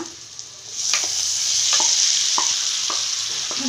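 Cooked lentils and ridge gourd stirred into fried onions in a pan for upsaaru. A steady close sizzle runs throughout, broken by regular scraping spoon strokes roughly every second, with no voices.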